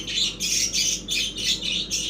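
Sparrows chirping in quick rhythmic bursts close by, about seven bright repeated calls over two seconds with no talking.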